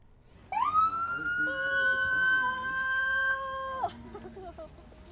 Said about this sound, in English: some even allowed to flip the ambulance siren switch